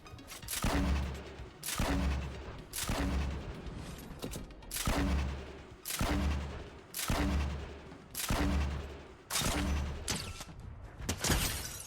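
Grenade launcher fired repeatedly in a video game: about nine sharp, booming shots at a steady pace roughly a second apart, each followed by a short ringing tail, loud and close with no talking.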